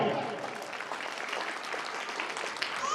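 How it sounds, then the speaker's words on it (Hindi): Spectators at a school annual function applaud in a steady, crowded patter of clapping, moderately distant, with a voice faintly heard at the start and end. "एक बार जोरदार तालियां"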